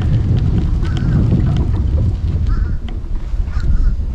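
Geese honk intermittently across open water on a lake, scattered calls standing out faintly over a steady low rumble of wind or engine noise.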